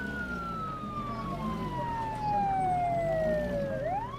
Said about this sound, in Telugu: నా సైరన్ ఆఫ్ చేస్తా